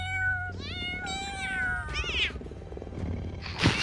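A cat sound effect plays several drawn-out, rising and falling meows in close succession. A harsher, brighter yowl cuts in near the end, with no talking.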